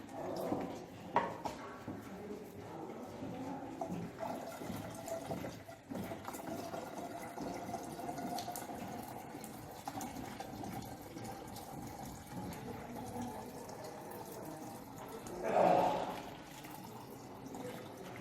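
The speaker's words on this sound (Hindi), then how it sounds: "और अब अपन इसको पानी से बोतल को भरेंगे।" Water is poured into a plastic bottle fitted with balloons, a long, steady gurgling and trickling stream with a brief louder splash near the end, and no talking over it.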